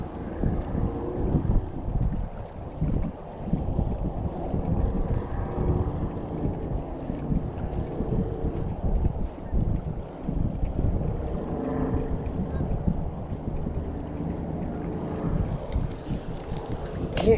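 Strong wind buffets the microphone in a small boat out bass fishing on a windy day, a steady loud rumbling roar that runs throughout with no voices.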